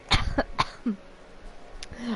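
Two or three close, loud coughs from a person, bunched near the start and followed by quieter throat sounds and faint background noise.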